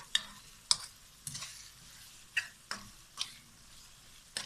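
Tomatoes cooking in a pan as the base for a fish curry, a soft low sizzle with repeated sharp clicks and scrapes of a spoon stirring, close and without talk.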